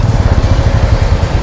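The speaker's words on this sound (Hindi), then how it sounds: "तो अभी हम लोग स्टार्ट करते हैं बाइक मीटियोर" A Royal Enfield Meteor 350 motorcycle engine running just after being started on wet ground after rain, a steady low rumbling idle with a pulsing thump, close and fairly loud throughout.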